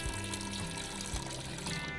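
Water pours steadily into a container nearby, a soft continuous trickling and splashing with no voices.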